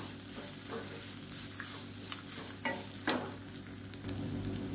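Grated coconut sautéed with onions in a pan, a quiet even frying sizzle under occasional stirring scrapes and soft knocks of a spatula, close and low-level with no speech.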